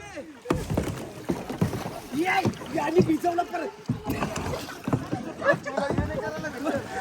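A small boat moves through water on a Goa trip, with splashing and sloshing close by under lively, overlapping shouts and talk from the people aboard.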